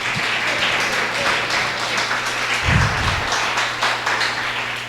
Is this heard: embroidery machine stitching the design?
no